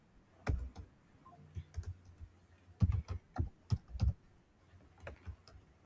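Keystrokes from a computer keyboard as Python code is typed, arriving in short irregular bursts of close, crisp clicks with brief pauses between them, no voices.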